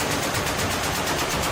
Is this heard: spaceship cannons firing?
yes